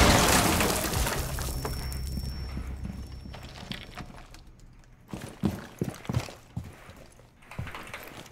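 A breach charge blows through a wall in a video game: a loud blast whose roar slowly decays, followed by scattered clattering and breaking debris.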